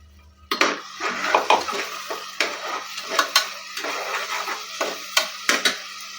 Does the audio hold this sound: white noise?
no